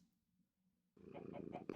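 Cat purring in Minecraft, a low rhythmic rumble that starts faint and then swells louder and closer, with no talking over it.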